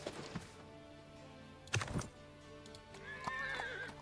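Horse neighing and whinnying with clip-clop hooves while riding through the desert in the Millennia strategy game, a loud whinny near the middle and a rising high neigh toward the end over a steady ambient game bed.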